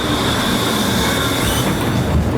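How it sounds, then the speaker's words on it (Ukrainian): A new tram in Bydgoszcz pulls in at a stop, a loud, close, continuous rumble of wheels on rails with a high, steady squeal running through it. "Ось під'їжджає наш трамвай новенький."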